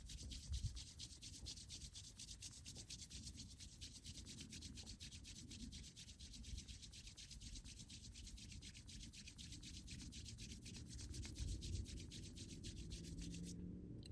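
Palms rubbing briskly together outdoors in cold air, a steady continuous brushing friction that runs unbroken for the whole stretch at a soft, even level with no talking.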